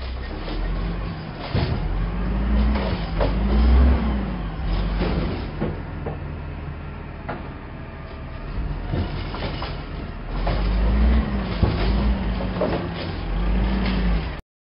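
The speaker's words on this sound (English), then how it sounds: "garbage truck." Garbage truck engine running steadily with a deep low rumble, rising hisses and repeated whining mechanical tones as it works, heard close and alone.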